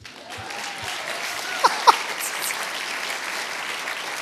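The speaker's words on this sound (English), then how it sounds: "Can we get a round of applause for I think all engineers just in general?" Conference audience applauding engineers at a startup event, a steady, fairly quiet wash of clapping from a crowd that holds evenly throughout with a couple of brief louder spikes.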